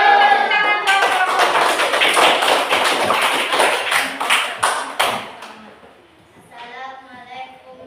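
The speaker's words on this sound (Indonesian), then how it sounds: "Beri tepuk tangan kelompok." A classroom group claps for another student group, a burst of loud, rhythmic clapping from several pupils at close range that fades out, followed by children's voices.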